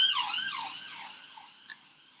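An emergency vehicle siren wails outside with a few rising and falling sweeps, moderately loud and then fading as it moves away, heard alone with no talk.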